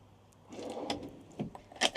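A storage drawer in a Bürstner Playa C530 pop-top campervan is pushed and slid, a soft brief rumbling glide ending in a couple of light knocks, close and quiet.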